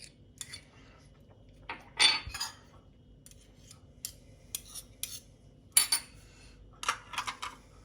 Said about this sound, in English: The couple of teaspoons of the mixed capers and gherkins, and the good tablespoon of mayonnaise goes in there to be mixed in.